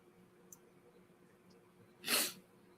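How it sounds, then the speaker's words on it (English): A single sharp sneeze bursts out loudly near the end, standing alone against a quiet room background with no talking around it. "I'm going to sneeze."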